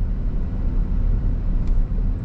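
A car rolls slowly along a small road near the Wills Bridge in Portishead, a steady low engine and tyre rumble heard from inside the cabin.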